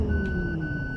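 Bus in Bus Simulator Ultimate shifting into reverse, a steady high electronic beep tone running under a low engine hum, with a brief click or two.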